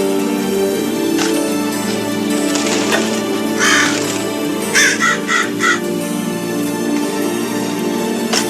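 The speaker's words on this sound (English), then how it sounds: "There's birds out there. Big ones." Crows cawing outdoors in a few loud harsh bursts, with a cluster of calls near the middle over a steady background hum, no talking.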